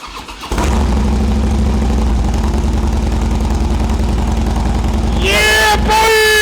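A Harley-Davidson Dyna motorcycle engine fires up after a short crank and settles into a loud, lumpy idle close by, with rising revs near the end.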